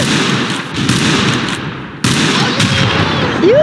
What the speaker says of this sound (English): Use the gatling guns!